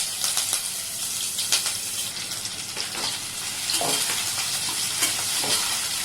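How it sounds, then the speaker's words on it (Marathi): Sliced onion frying with bay leaf, peppercorns, cloves, cardamom and curry leaves for vegetable pulao, a loud continuous sizzle broken by repeated spoon scrapes against the pan. "कांदा थोडासा गुलाबीसर होऊ द्यायचा जास्त लाल होऊ द्यायचा नाही"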